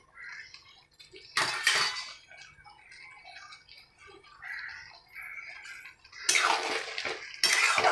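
Prawns added to a pan of sweetened, fried masala, giving loud bursts of hissing sizzle that swell and fade between quieter stretches of light stirring and clinking.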